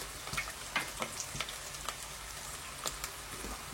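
Onions frying in a pan give a quiet, steady sizzle, with scattered soft crackles and pops over the low hiss.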